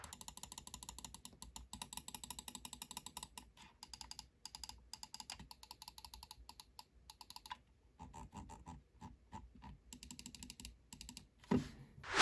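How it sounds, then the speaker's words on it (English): Button clicks from a Pulsar X2 wireless mouse come as long runs of quick, crisp, close-up clicks, some fast and some spaced, with brief pauses between series and a louder handling noise at the end. "Here's a sound test of all the buttons"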